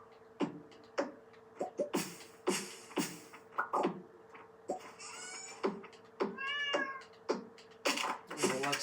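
A pet cat in Stardew Valley meows repeatedly over a busy bed of game sounds and clicks, its rising and falling cries coming at intervals, some drawn out, at moderate loudness.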